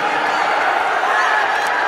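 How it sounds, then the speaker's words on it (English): Crowd cheering at an amateur MMA fight, a dense, loud roar of voices with whoops and some clapping that runs steadily for about two seconds. "let's cheer for the two warriors"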